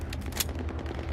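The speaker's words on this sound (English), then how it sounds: "Someone's shooting as well." Gunfire in a video game crackles in a quick, rapid sequence of faint, distant pops over about a second, with low background hum beneath.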